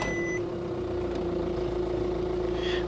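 An idling Audi A3 engine holds a steady, low, even hum close by, with a short electronic beep tone at the start and no speech.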